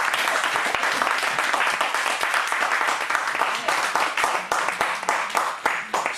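A church congregation applauds loudly and steadily, dense sustained clapping from many hands filling the space throughout, with a few sharper claps standing out toward the end.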